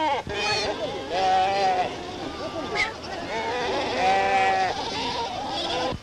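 Sheep bleat repeatedly in a wavering chorus, close and loud, in a 1934 Moroccan setting at Taroudant, with several overlapping animal cries filling the whole stretch.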